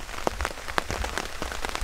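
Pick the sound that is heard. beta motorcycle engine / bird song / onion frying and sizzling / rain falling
rain falling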